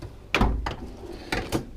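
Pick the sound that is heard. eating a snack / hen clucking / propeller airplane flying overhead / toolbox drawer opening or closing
toolbox drawer opening or closing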